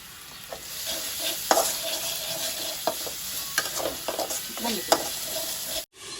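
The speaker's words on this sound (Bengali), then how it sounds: "এটাকে হচ্ছে আমি আগে কষিয়ে নিব" Winter vegetables are sautéed with salt and chili in a pan, a steady close sizzle punctuated by repeated clicks and scrapes of stirring, cutting off abruptly at the end.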